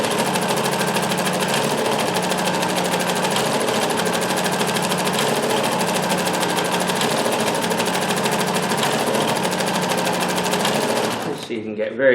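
A Dressmaker 2402 sewing machine runs pattern stitching in one steady, loud, continuous whir with a regular rapid tick, stopping abruptly near the end.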